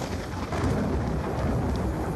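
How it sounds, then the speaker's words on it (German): Steady low rumbling wash of a thunderstorm in the video game Black Ops 2, with rain-like hiss, continuous and fairly loud throughout, no voices. "Ich höre das Gewitter nonstop, aber ich sehe es nirgendwo."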